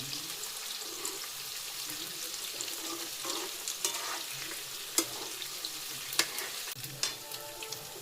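Chicken pakodi fries in hot oil while being stirred, a close steady sizzle broken by sharp clacks and scrapes of the spoon against the pan.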